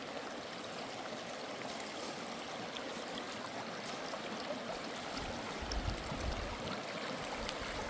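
Klamath River water flowing steadily near the Ash Creek access point, a continuous broadband rush that holds even throughout, with a slightly louder low surge near the end and no talk.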